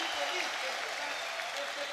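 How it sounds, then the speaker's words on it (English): A crowd at an esports LAN event applauds and cheers in a dense, continuous wash, with a commentator's voice heard over the noise. "I'm not sure how well you guys can hear it here, but the crowd has been super receptive."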